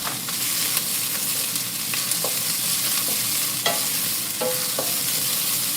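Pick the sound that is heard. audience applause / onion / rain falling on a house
onion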